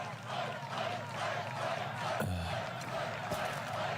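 A rally crowd cheers and shouts in a steady, moderately faint wash of noise, with a few brief swells rising out of the din, heard as if from a played-back recording.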